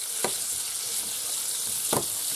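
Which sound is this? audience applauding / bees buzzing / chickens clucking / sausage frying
sausage frying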